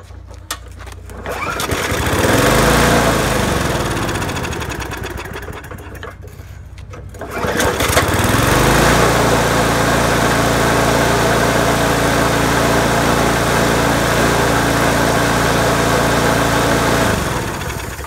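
A 1996 Murray entry-level walk-behind lawn mower engine starts, sputters briefly, then settles into a loud, steady running drone close by, with no talking.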